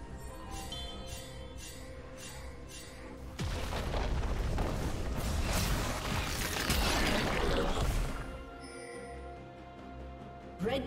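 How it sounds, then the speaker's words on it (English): A turret collapses in League of Legends with a heavy booming, rumbling crash that swells suddenly and holds loud for several seconds before dying away, set against a quieter ringing game soundscape. "Red Team's turret has been destroyed."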